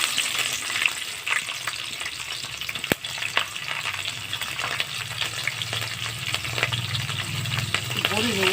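Green chilies dropped into hot oil with fenugreek seeds for a tempering sizzle and crackle steadily up close, with light stirring scrapes and a brief sharp click.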